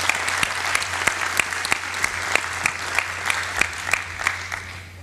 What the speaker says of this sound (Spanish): brindemos un aplauso a Edmundo